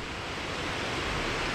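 Heavy water pours out beneath the arch at the base of Big Bear Dam, a dense, steady broadband rush with no breaks, loud and continuous like a waterfall.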